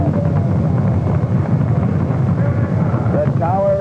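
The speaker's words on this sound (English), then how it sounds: "Apollo 15 lifted from the pad on its way to the moon" Apollo 15's Saturn V rocket engines at liftoff, a heavy continuous low rumble mixed with wind buffeting, loud and steady, with faint radio voices beneath.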